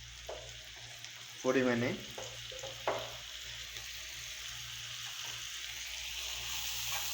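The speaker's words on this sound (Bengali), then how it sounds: "এর জন্য আমি একটু পেঁয়াজ একটু লাল করছি ওইলে দিয়ে" Onions browning in oil in a pan, a steady close sizzle and crackle of frying running throughout, with a brief burst of a voice and a stir partway through.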